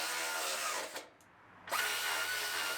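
A power drill snugs up hood hinge bolts on the fender of a wrecked Grand Am SCT, two close, loud bursts of whirring with a brief pause between them.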